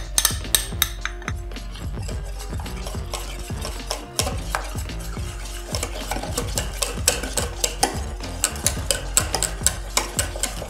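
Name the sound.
whisking melted chocolate into soufflé mixture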